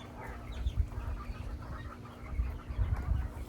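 Soft, low clucking calls from quail come in irregular bursts, faint and close, with no talking.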